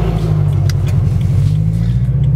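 A Subaru BRZ engine with an exhaust leak rumbles at a steady, close, low drone, an uneven throbbing idle or cruise with no talking over it.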